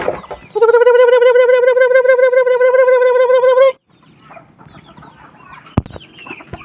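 A loud, close, drawn-out clucking call from a farm chicken at feeding time, followed by quieter scattered clucks and rustling.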